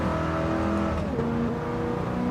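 Race car engine in Gran Turismo 7 held at full throttle, a loud sustained high-pitched whine with shifting pitch and layered engine tones from nearby cars, no pauses.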